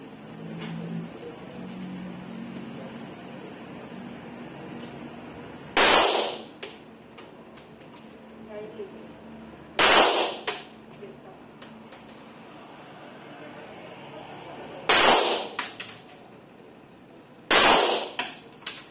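Four single gunshots ring out at a marksmanship shooting range, spaced several seconds apart, each a sharp loud crack over a quiet background with faint voices between.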